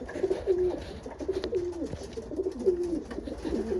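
Racing pigeons coo near at hand in a steady run of soft, rolling calls repeating every half second or so, with no voices over them.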